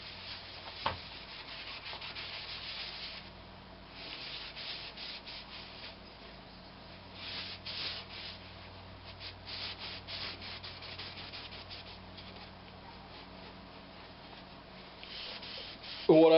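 Cloth buffing excess dried wax off a turned wood piece, a soft continuous rubbing hiss with slow swells and a few faint knocks, quiet and close.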